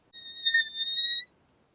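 A single high, thin whistled note swells and holds for about a second, a human imitation of an elk cow's drawn-out mew.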